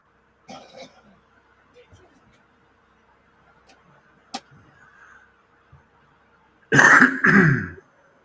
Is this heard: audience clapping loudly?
no